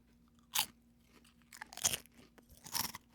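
Crisps crunch in three separate bites, each a sharp, close crackle followed by chewing, with quiet pauses between them and no talking.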